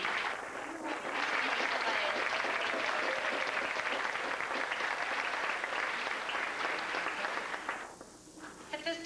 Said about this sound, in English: could we please have a warm round of applause for Jerry Parks